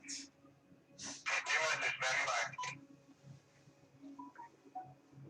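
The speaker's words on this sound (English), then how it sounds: "That's my phone going off," A phone notification alert chimes out as a short series of rising electronic tones near the end, faint and clear after a burst of loud, noisy sound, with people talking quietly in the room.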